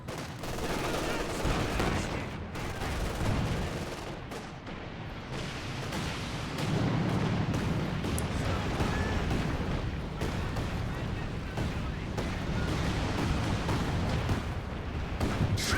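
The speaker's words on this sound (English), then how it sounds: "We bring the Stuka here for counter-barraging or the indirect from the allies" A Stuka rocket artillery barrage in a real-time war game lays down a dense, continuous roar of launches, blasts and gunfire with no letup, a thick wall of battle noise that fills the whole span.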